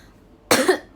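A single sharp cough, close and loud, bursts out of near silence during a solo livestream, with a brief clipped sound at the very end.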